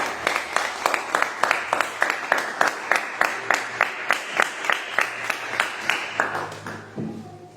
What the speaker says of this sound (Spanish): Vamos a ver fuerte aplauso.